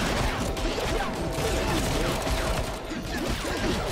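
Revolver gunfire rings out in the Evil Genius 2 base, a rapid, dense series of sharp shots mixed with mechanical clatter, loud and continuous throughout.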